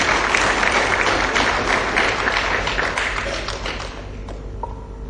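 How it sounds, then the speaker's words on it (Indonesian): Audience applause at an Indonesian business motivational seminar, a dense crowd of clapping that stays steady and loud before gradually thinning out toward the end. "Berikan aplaus untuk Anda."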